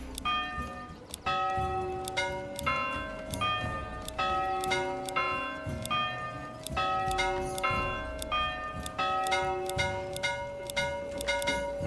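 Church bell in the medieval city-building game Manor Lords, ringing in repeated clanging strikes with layered ringing overtones, a steady rhythmic peal that continues throughout, loud and without talk.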